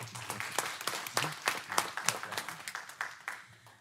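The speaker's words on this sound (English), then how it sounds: "everyone, please give him a round of applause." A small group claps in a brief, scattered round of applause that gradually thins out toward the end.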